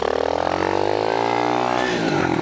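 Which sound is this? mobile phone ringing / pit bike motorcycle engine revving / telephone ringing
pit bike motorcycle engine revving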